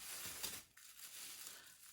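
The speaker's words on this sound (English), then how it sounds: "Put these plastic bags on my head" Thin plastic bags crinkle and rustle close up as they are pulled over hair during a deep-conditioning treatment, a brief burst of crackling with a short pause in the middle.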